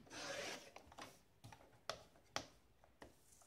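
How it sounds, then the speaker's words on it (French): Paper card being cut for a handmade shaker card, with a rasping stroke followed by a series of short, quiet snips and rubs spaced irregularly, close and alone. "Donc maintenant, on va couper."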